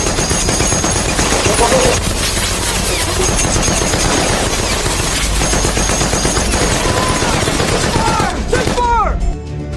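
Sustained machine gun fire rattles through a battle between American and Japanese soldiers in a war film, dense and loud for the whole stretch, with distant shouting under the shots.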